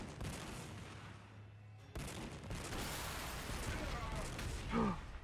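Gunfire and artillery-like blasts rumble through a Warhammer 40000 Sanctus Reach multiplayer battle, a steady busy din of shots with a brief lull near the start and a louder burst toward the end, with voices talking underneath.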